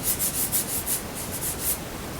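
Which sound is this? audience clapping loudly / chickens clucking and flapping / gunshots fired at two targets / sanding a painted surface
sanding a painted surface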